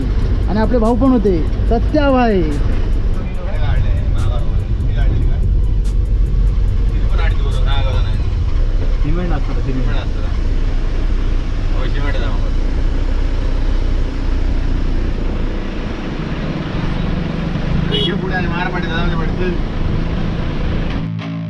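A travel bus drives along a road with a steady low engine rumble and road noise that eases off toward the end as it stops, while people talk throughout over the vehicle sound.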